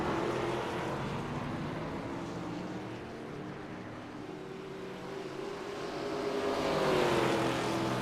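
Engine drone of ARCA race cars lapping New Hampshire in the iRacing sim, a steady broadband roar that swells near the end as cars pass.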